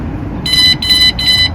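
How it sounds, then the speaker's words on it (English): Vanguardian van alarm sounds three short, even electronic beeps in quick succession when armed by remote, each a bright high-pitched tone over a low background rumble. "The two beeps that you heard first, they're letting you know that the signal's been received."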